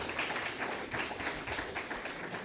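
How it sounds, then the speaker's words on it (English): Faint, distant applause from a conference audience greeting keynote speaker Andrea Wojnar, a steady wash of many hands clapping at once. "Let's give a big round of applause for Ms."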